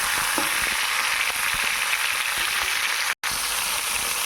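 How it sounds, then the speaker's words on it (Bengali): Pointed gourd pieces fry one at a time in hot oil in a pan, giving a dense, steady sizzle with a few soft clicks of stirring and one brief cutout near the end. "এক পিস করে ভাজা করবো নয়তো একবারে নাড়তে গেলে ভাজা হবে না"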